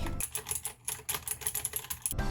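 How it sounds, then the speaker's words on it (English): Rapid clicky keystrokes on a computer keyboard, close and steady with a brief pause midway, no voices. "this is my keyboard, the one you like listening to as an ASMR"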